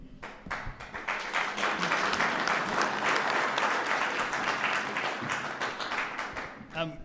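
An audience at a city meet-the-candidates meeting breaks into sustained applause, a dense patter of clapping from a room full of people that rises quickly, holds steady and tapers off.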